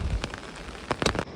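Heavy rain in the mountains of Pauri Garhwal, Uttarakhand, heard as a steady close patter with a few louder bursts of drops striking a surface, no voices.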